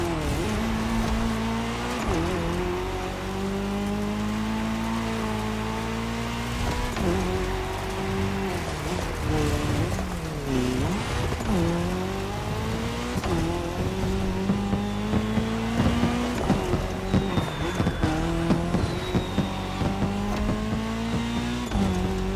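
Race cars in a cross-terrain Red Bull Speed Clash race in The Crew Motorfest, engines loudly revving up through the gears and dropping on shifts, with tire noise and other cars passing, continuous and close.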